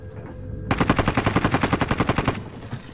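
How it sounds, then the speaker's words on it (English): Rapid automatic gunfire in the Modern Warfare video game, a loud sustained burst of evenly spaced shots lasting under two seconds before cutting off. "That's a shot."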